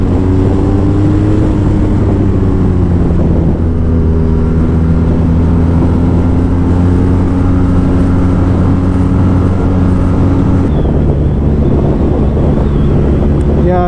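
BMW R nineT motorcycle engine running under power, a steady low rumble with the pitch rising and falling as throttle changes, continuous and close with wind buffeting the microphone.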